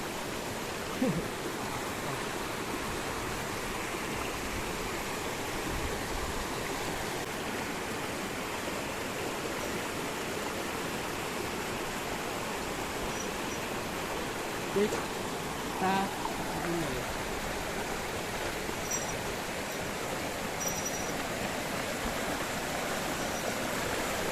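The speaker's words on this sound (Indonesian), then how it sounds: "jadi kita menuruni sungai ya, kita seberangi sungai" A river flows steadily while people cross it on a hill trail at Bukit Cendono, a continuous broad rushing wash of water that stays even throughout, with occasional faint knocks and splashes.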